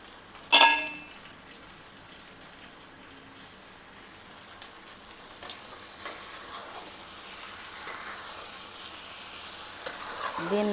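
Chicken with chicken masala fries in a pan, a soft steady sizzle with occasional stirring scrapes and one sharp clatter near the start, quiet and close with no talking.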